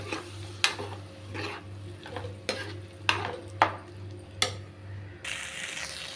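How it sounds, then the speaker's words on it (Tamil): Scraping and clinking of a spoon stirring elephant foot yam gravy in a pan, several sharp knocks against the metal over a steady background hum, close and fairly loud. "இப்போ நல்லா மிக்ஸ் பண்ணி விட்டுக்கலாம்"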